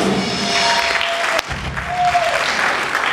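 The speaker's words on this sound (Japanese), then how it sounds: "拍手。" Loud, steady applause from a rock festival audience greeting band members as they are introduced, with a brief dip midway and faint crowd noise mixed in.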